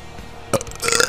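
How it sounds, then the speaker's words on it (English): A single loud, close burp, brief and throaty, with faint rustling and sounds after it. "Ugh, that was a horrible burp."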